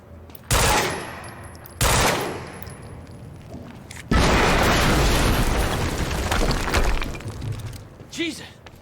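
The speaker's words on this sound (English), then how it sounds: "we just heard an explosion near the harvesting perimeter" Explosions and bursts of gunfire in the video game Quantum Break, loud blasts at the start followed by a sustained roar of shooting and debris, fading out near the end.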